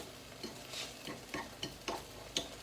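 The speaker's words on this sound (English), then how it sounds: "so nice little sizzle happening right here" Garlic sizzles in a pan for an organic vegetable soup, a faint close hiss broken by repeated light scraping strokes as it is stirred, with no talking.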